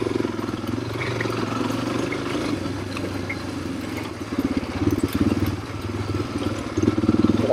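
A Suzuki DRZ250z motorcycle engine running steadily while being ridden in third or fourth gear, a close, continuous throbbing drone with a mild rise in intensity near the end.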